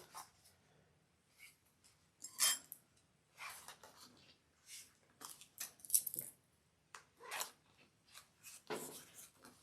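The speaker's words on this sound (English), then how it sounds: "I'll trim the other edge down" Scissors snip along the edge of a handbag fabric piece in short, irregular cuts, with scattered quiet rustling and clicking between the snips.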